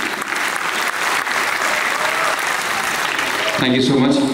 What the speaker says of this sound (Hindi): पाई गोटे जोरदार ताली